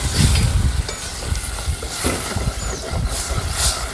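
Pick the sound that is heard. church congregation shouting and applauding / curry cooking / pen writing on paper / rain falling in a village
curry cooking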